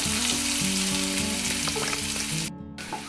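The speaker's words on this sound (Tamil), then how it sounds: "வெங்காயம் நல்லா வதங்கிடுச்சு." Sliced onions sizzle and fry steadily in hot oil while being browned for drumstick biryani, with a continuous loud crackle, background music-like tonal hum, and a brief drop near the end.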